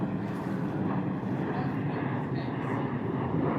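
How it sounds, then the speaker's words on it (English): A low, steady roar from an airplane passing overhead outdoors, filling the background continuously and loud enough to drown out conversation. "I can't hear you because of the plane."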